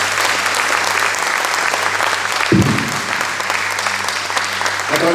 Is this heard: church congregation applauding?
yes